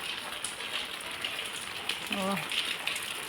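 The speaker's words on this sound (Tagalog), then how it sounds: "Once in a blue moon lang umuulan dito mga kalodis." Steady rain patters on a surface, a continuous soft hiss with scattered drop taps, and a brief voice breaks through near the end.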